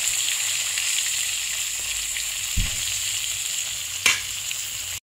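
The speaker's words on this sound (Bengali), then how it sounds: "এক এক করে আমি মাথা, লেজা আর মাছের টুকরোগুলোকে সব ভেজে নিচ্ছি" Kalbosh fish heads, tails and pieces frying in oil in a pan, a steady close sizzle and hiss with a couple of brief knocks, no talk.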